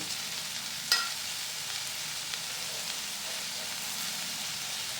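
Chicken fries in a pan with tomato, giving a continuous soft hiss and sizzle, close and even, broken early by a single sharp clink of a utensil against the pan.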